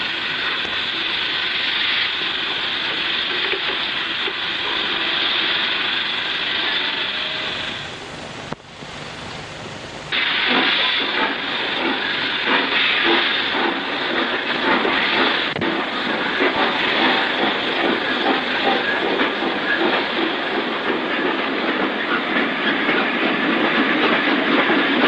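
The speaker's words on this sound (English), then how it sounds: "here 6 are being attached to our stopping passenger train" Steam-era passenger train in 1963 with milk tank wagons being coupled on, a steady rolling rumble and clatter of wagons that briefly drops away, then returns with rhythmic clickety-clack.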